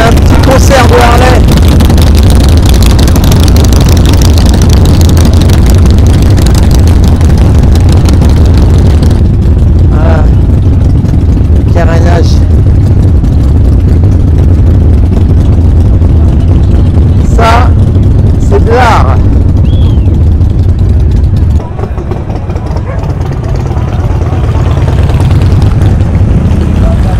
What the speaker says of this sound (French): Un petit concert de Harley.